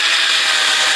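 A power drill bores holes through a wooden sign, giving a steady, loud, continuous whirring grind that fills the whole moment up close with no voices.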